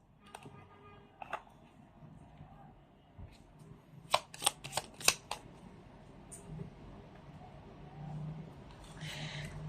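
A deck of fortune cards being shuffled and handled: quiet riffling and several sharp snapping flicks in a quick cluster midway, with faint rustling before and after in a quiet room.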